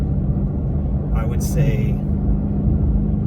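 A Lexus LC500 engine fitted with a custom exhaust rumbles in a low, steady drone from start to finish, with someone talking over it.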